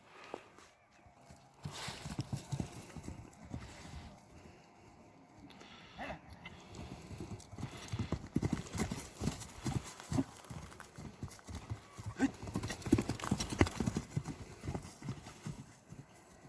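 Horse hooves clip-clop in an uneven walking rhythm, close and fairly loud, as a long-necked stallion used for ulak (kok-boru) horseback games shows its paces; faint rustling and occasional animal sounds sit underneath, with no talk.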